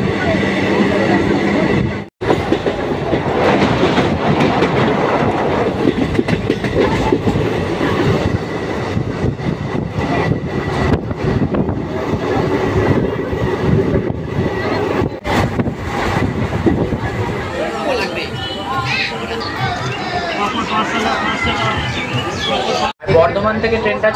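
Maa Tara Express passenger train running between Naihati and Bolpur: a steady, loud rumble and rattle of the moving carriages runs throughout, with brief dips in the noise and voices murmuring under it.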